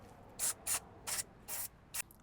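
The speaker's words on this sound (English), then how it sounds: "I'm just going to spray this in here and get this caliper all cleaned up." Brake cleaner is sprayed onto a Tesla Model 3 brake caliper in five short, sharp hissing bursts, evenly spaced and close up, with near silence between them.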